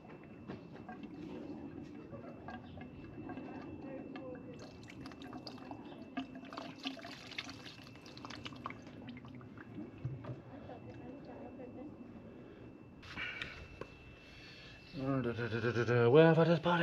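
Fuel poured by hand into the tank of a neglected Yamaha 125 motorcycle, a soft liquid trickle running steadily under light background noise, ending in a louder gurgling splash near the close.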